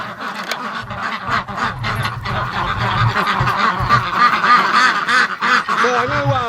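Domestic ducks penned near an electric fence honk and quack loudly and continuously, a dense close-up chorus of overlapping calls with no pauses.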